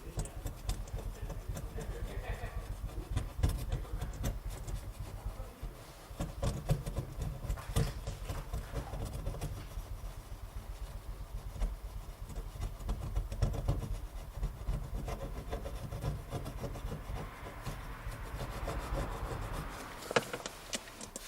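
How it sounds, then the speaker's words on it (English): A Scraperite tool with an SRC Pro plastic blade scrapes remnants off a surface, giving faint, uneven rasping strokes that continue on and off throughout, with no speech. "Here I have the SCRAPERITE tool. I have the SRC Pro blade installed and we'll use it to scrape the remnants off."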